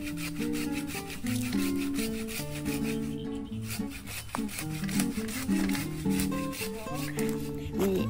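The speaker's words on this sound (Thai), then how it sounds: "เป็นต้นมะขามเทศต้นใหญ่ๆนะคะเราจะตัด" A hand saw cuts into the wood of a large Manila tamarind tree, making a loud, close, rhythmic rasp of repeated back-and-forth strokes with a brief pause partway through.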